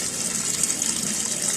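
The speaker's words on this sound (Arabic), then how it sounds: "لو لقيت الغسالة بتسحب مية باستمرار وما بتفصلش" Water rushing steadily into a top-loading automatic washing machine that keeps filling and never shuts off, a continuous even gush with no pauses, close and moderately loud.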